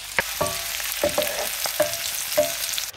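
White onion frying in fat for a goat curry, a soft steady sizzle broken by a handful of light scraping and clinking stirring sounds at uneven intervals, with no speech.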